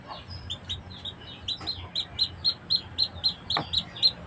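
A young chicken chick chirps in a quick series of bright, high peeps, close and fairly loud, with faint low background noise and no talk.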